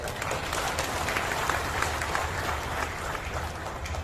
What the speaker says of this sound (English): That calls for a big round of applause.